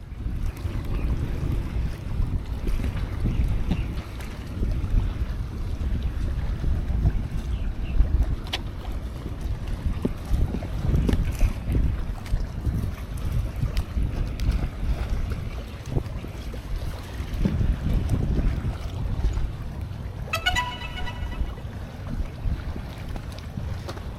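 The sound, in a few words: strong wind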